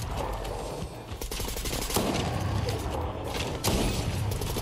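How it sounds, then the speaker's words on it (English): A shotgun fires repeatedly in a video game, several sharp blasts in quick succession over a busy background of game noise. "This shotgun hurts."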